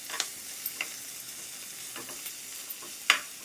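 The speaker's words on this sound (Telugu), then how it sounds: "ఆనియన్ వెల్లిపాయలు పచ్చి వాసన పోయేంత వరకు ఫ్రై చేసుకోవాలి." Garlic and onion fry quietly in a pan, giving a faint, even sizzle with scattered small crackles and ticks and one sharper pop near the end.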